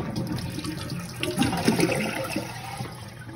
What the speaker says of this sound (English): flush the toilet so all of the water is removed from the tank in one single flush